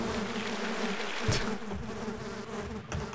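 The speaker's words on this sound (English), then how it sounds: "I can shoot the bee gun underwater." Hornet gun from Half-Life in Sven Co-op firing underwater, giving a buzzing, insect-like drone. The sound runs continuously and fairly quietly for a few seconds with a bubbly water wash.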